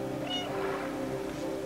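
Cat meowing inside the Stray video game, a short drawn-out mew heard clearly over a steady ambient game background hum.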